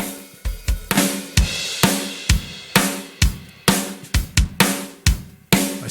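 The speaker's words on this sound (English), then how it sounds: "then I'll drop the drum bus in on it so you can hear how that changes things." Superior Drummer software drums run through drum bus processing, heard alone as a loud, dense groove of kick, snare and cymbal hits with fuller, more sustained attacks and tightly repeating rhythm.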